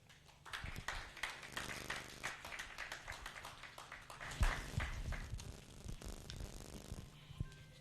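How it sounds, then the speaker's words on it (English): A conference audience at the PWDAN 2025 annual pharmacists' meeting gives a round of applause, faint and somewhat distant, with scattered claps building and fading over several seconds. "Please, a round of applause for Pharmacist Adebayo"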